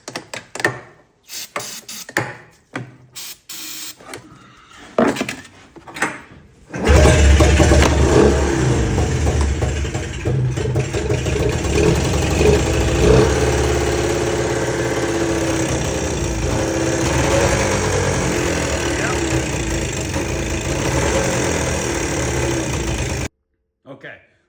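A 2003 Arctic Cat Z440 snowmobile engine, given a spray into its non-running carburetor, catches and roars loudly and steadily for about sixteen seconds after several brief sputtering pulls, then cuts off abruptly.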